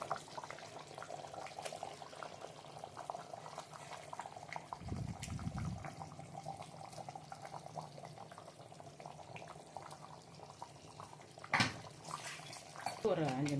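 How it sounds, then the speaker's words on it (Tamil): Soft bubbling of chicken curry with ground coconut and fennel boiling in a pot, a low simmer under quiet background noise, with a brief clatter near the end. "ஒரு 5 நிமிஷம் கொதிக்கட்டும்."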